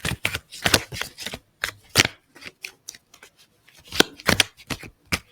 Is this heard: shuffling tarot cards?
yes